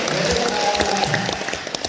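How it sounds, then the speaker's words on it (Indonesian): Applause from an audience at a lively talk event at a villa in Bedugul, Bali, a dense steady clatter of clapping that fills the whole moment, with a voice faintly heard underneath. "Tepuk tangan untuk Pak"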